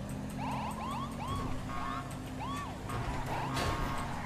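A police siren from a Lamborghini Aventador police car mod in GTA 5, with rapid rising and falling wails, chirps and yelps switching every half second or so over a constant engine drone.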